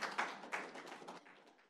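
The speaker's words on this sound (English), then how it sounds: "So I guess we should all give ourselves a round of applause," Applause from a symposium audience on environmental justice, a brief scattered patter of claps that rises in a few sharp bursts, then thins out and fades within a couple of seconds.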